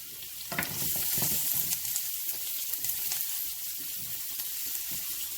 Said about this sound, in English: we're gonna fry up our chili pepper, galangal, and shallots